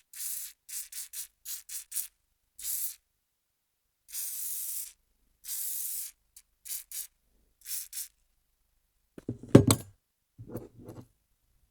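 Cleaner sprays onto an AK-74 bolt carrier during field cleaning in a series of about a dozen short and longer hissing bursts, close and crisp, followed by a few metallic knocks and rattles.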